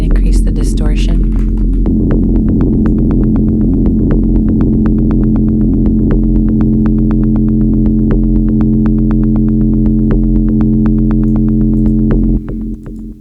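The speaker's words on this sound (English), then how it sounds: "And I can increase the distortion." Distorted synth bass with added noise from a Strudel live-coding pattern drones with a thick stack of buzzing harmonics, punctuated by rapid, regular clicking pulses, and stays loud and sustained until it cuts off near the end.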